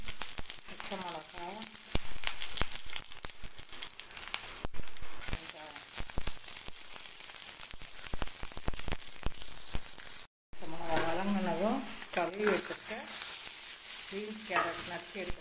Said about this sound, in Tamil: போட்டு வதக்கி வேக வைக்கிறேன்